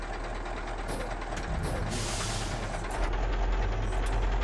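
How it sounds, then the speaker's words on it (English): Truck engine in a truck-driving simulator game bouncing off the rev limiter in first gear, a loud steady drone with a brief surge of hiss midway and a bump in level near the end. "Like the engine in first gear just hits the limiter really quickly."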